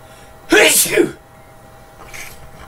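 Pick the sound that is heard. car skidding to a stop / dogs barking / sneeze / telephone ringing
sneeze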